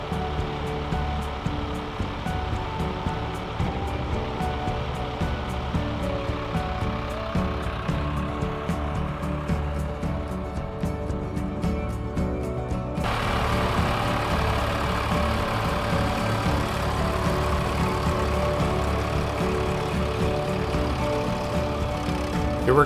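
A tractor hauls a hydraulically converted sawdust spreader across a field, its engine droning steadily for the whole stretch, with a broadband rushing rise partway through as the spreader's drive chain and discharge kick in.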